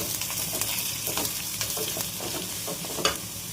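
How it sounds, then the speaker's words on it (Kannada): Dried chillies and curry leaves sizzling in hot oil for tempering, with a steady hiss of frying, a few crackles and pops, and a brief sharper spatter near the end. "ಇದು ಒಗ್ಗರಣೆ ಹಾಕ್ತಾ ಇರಲಿ."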